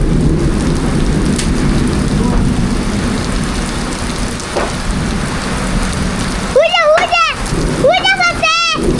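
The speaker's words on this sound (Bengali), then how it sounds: "শিলাবৃষ্টি হয়েছে, শিলাবৃষ্টি।" Heavy rain with hail pours down in a steady, loud roar, with low thunder rumbling underneath. Near the end, voices, including a child's, speak over the storm.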